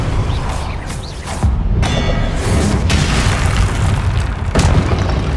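Spell explosions in Hogwarts Legacy, a dense continuous rumble of booms and bursts with sharp whooshing impacts layered together, loud and without speech.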